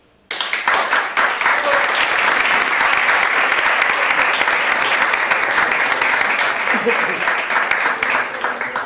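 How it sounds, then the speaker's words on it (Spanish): At a tango dinner show, a crowd bursts into loud, steady applause that carries on throughout, with a voice briefly speaking over it. "es se merece un aplauso"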